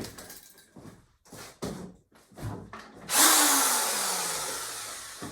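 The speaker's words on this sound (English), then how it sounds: "I'm just gonna grab my drill" A second-hand Ryobi power drill first gives several short bursts, then runs continuously at a loud, steady whine, gradually winding down near the end.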